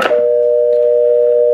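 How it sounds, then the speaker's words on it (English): An analog telephone adapter produces an old-style telephone dial tone, a loud, steady, unbroken tone heard up close and alone after a short click as the receiver goes off hook. "ATA set up to generate an old style dial tone rather than a modern dial tone"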